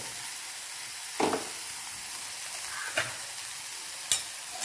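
Ground masala paste sautéing in a pan for a dill, potato and sorrel bhaji: a steady close hiss of frying, broken by a few louder spatula scrapes and stirs.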